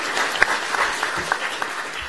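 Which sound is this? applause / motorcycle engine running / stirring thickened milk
applause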